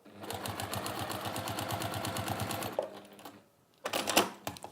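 A sewing machine stitches a seam in fabric with a fast, steady rhythmic chatter for nearly three seconds, pauses briefly, then runs again in a short loud burst.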